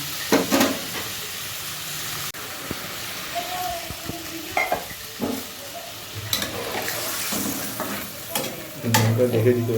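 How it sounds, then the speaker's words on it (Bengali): Fish fries in raw mustard oil with a steady close sizzle, broken by scraping stirs and a few sharp clinks of a utensil against the pan. "এবার মাছটাকে এবার একটু সিদ্ধ হওয়ার জন্য খানিকক্ষণ রান্না হতে দিতে হবে।"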